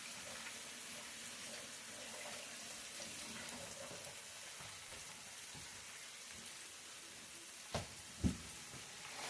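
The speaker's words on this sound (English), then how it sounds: "the next thing we'll do is wash our hands real quick" Tap water runs in a steady, soft splashing stream at a sink during handwashing before cooking pancakes on an electric griddle, with two brief louder knocks near the end.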